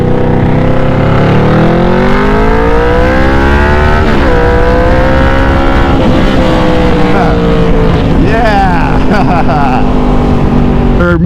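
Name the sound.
Yamaha Vmax motorcycle engine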